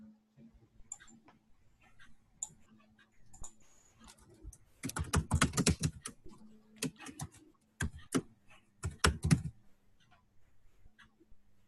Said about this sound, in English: And I would type LikeInMind in one word.